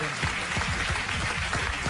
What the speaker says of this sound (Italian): l'applauso va a Magnini, Filippo Magnini, grande.